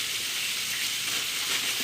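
Salmon fillets sizzle in a hot pan, a steady close hiss of frying oil that stays even throughout with no talking.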